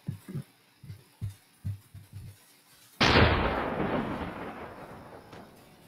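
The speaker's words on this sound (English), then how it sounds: "Let me see with the white cannon now." Cannon fire in a bee-swarm-style video game: a series of soft, low thumps at irregular intervals, followed by a sudden loud boom that decays into a long rumbling roar.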